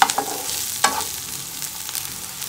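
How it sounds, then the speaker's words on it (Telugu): Onions sizzle softly in a pan for palak paneer while a spoon stirs them, with a few sharp scraping clicks at the start and a light steady frying hiss, close and without talk. "ఒక 2 మినిట్స్ వేయించుకుందాం."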